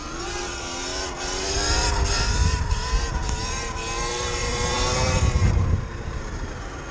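A Surron Light Bee 72V electric dirt bike with a BAC 4000 controller runs at full throttle, its motor whine rising and holding in tone over rushing wind and road rumble, loud and close throughout.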